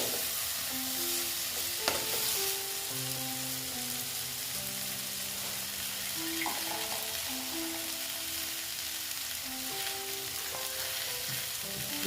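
Spice paste and eggplant fry in a pan with a constant, even sizzle and occasional stirring, while melodic background music plays throughout.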